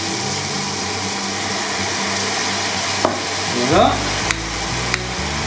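Sliced veal sizzles in a hot pan while being stirred for an Armagnac flambé, a steady loud frying hiss with a few sharp clinks and scrapes of the utensil near the end; a voice briefly speaks.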